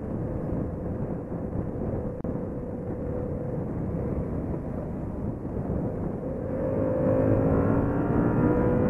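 A Yamaha FZ-07 motorcycle is ridden through a valley with heavy wind rush dominating. The engine hum sits under the wind, then rises clearly in pitch near the end as it downshifts and revs.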